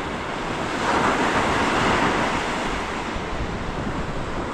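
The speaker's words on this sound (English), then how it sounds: "When you see the waves like exploding on the rocks on this side." Choppy Caribbean sea at The Baths in the British Virgin Islands, waves crashing on rocks in a broad, loud surge that swells then settles into a constant roar, with wind buffeting the microphone.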